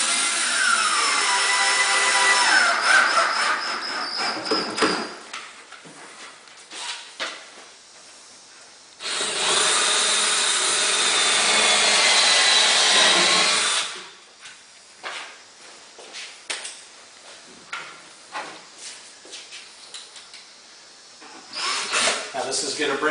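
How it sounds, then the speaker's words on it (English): A power drill drives loudly into a wooden filler strip while wall cabinets are installed, with two long whirring bursts separated by quieter pauses and talk. "Go ahead and drill through here into our filler strip just to hold everything together real nice."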